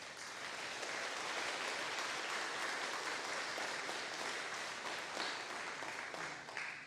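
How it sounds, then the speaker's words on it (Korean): A church congregation applauds to welcome visiting members during a Sunday service, a dense, steady wash of many hands clapping together for several seconds, distant and soft, with no voices over it. "자리에 잠시 일어나시면 우리 박수로 환영하겠습니다"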